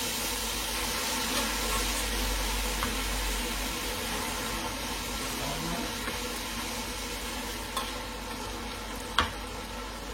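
Sauce sizzles and crackles steadily in a hot pot while cooking salt cod with vegetables, a constant close hiss with a couple of small clinks near the end.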